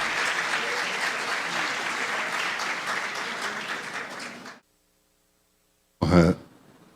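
An auditorium crowd at a rural congress panel applauds a panelist with dense, sustained clapping that cuts off abruptly into silence, followed by a short throat clearing.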